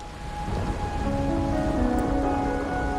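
Steady rain pours in a Wuthering Waves scene, a dense even hiss with low rumbling beneath, continuous and fairly loud throughout with a faint tonal music line layered on top.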